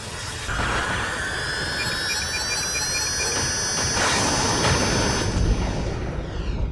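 Aircraft engine roar from the 1995 film Screamers, a loud, steady jet-like drone with high whining tones, sustained throughout without talk.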